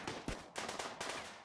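Defensive turrets shooting in Rimworld: a quick series of sharp, faint shots in an uneven burst, each crack trailing into a brief noisy tail, with no voices.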